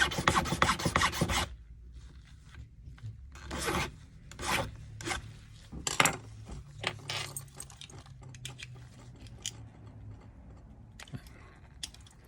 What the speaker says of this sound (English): So I'm just gonna switch to a less coarse file. I'm just going to round it off a bit.